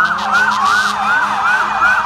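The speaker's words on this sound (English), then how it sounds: "I hear the fire trucks and stuff, so the parade is coming this way right now" Fire truck sirens wail in a steady rising-and-falling cycle as a parade approaches at a boat regatta, loud and fairly close, with faint traffic noise beneath.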